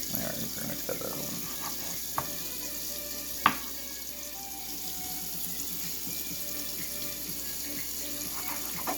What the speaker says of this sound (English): I also like to leave the water running just because it's good to be able to wash off your fingers, rinse off anything.